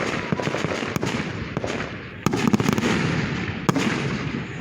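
Small fireworks go off at a church, sharp pops and crackles scattered irregularly at a distance, with a few louder bursts over steady background noise.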